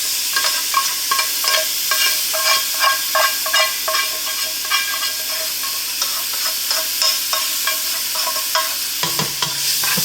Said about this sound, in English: So I'm going to add this mixture into this pot.